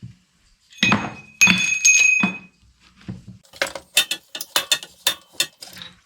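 A control arm bushing is pressed into place with a tool, giving sharp metallic clicks, clinks and ratcheting bursts, close and loud, ending in a quick run of rapid ticks.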